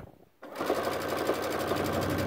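A sewing machine runs steadily after a brief quiet start, stitching fabric for a Christmas stocking with a continuous, close, even whir and no voices.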